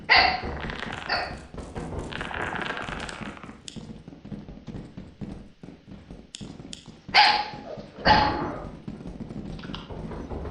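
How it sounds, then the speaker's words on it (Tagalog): An angry dog in a video game barks in sharp bursts, loud near the start and again twice late in the clip, with quieter game ambience and tapping in between. "Galit si Doggy ah."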